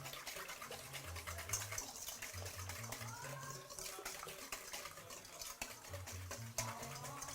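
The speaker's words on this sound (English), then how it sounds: "And if you got a whisk, just whisk it up like this." Whisk stirring barbecue sauce of honey, lemon juice and sugar in a bowl, a steady close scraping swish with low background music throughout.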